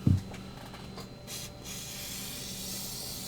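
Ballistol oil is sprayed from a can onto an 1850s Belgian 16-gauge double-barrelled shotgun. A short knock comes first, then faint aerosol hisses. The longest burst lands near the middle, over quiet room noise.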